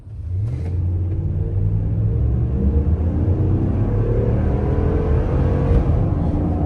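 A Ram pickup truck pulls away from a complete stop in Sport Plus mode, its engine rumbling loudly and climbing steadily in pitch as it accelerates, close and continuous with no talking.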